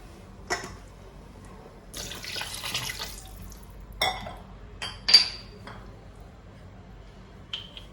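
Water is poured into a pan of country chicken curry, with a couple of short splashing pours and scattered clinks of utensils against the pot, heard close and fairly quiet.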